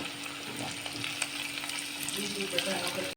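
Curry leaves, onion, grated coconut and ginger-garlic paste fry in a pan with salt, giving a steady close-up sizzle with light crackles and occasional stirring scrapes, no talking.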